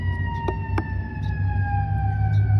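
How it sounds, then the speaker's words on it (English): A fire truck siren wails steadily over a low engine rumble, with a couple of sharp knocks near the start. "What is this? A fire truck."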